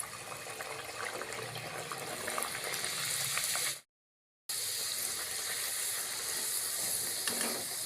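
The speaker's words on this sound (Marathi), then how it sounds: "कढईतलं तेल तापलेलं आहे, मी त्या तेलामध्ये पुरी सोडते।" Masala puris deep-frying in a kadhai of hot oil, a loud steady sizzle and hiss filling the clip, broken by a short silent gap partway through before the sizzling resumes.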